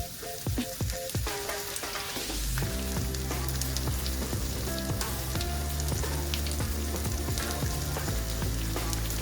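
Sliced onion fries in fresh coconut oil for a Kerala mutton stew garnish. A loud, steady sizzle with dense crackling and popping continues throughout, close up and with no one speaking.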